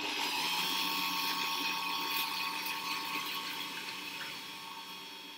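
A steady high-pitched whine of a power drill with a 12 mm bit grinds continuously through styrofoam, close by, fading slightly toward the end.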